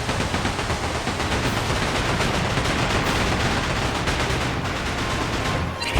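Rapid cannon fire during a pirate ship battle in Like a Dragon: Pirate Yakuza in Hawaii, a continuous loud barrage of overlapping booms and bursts with no pauses, ending in a final sharp blast.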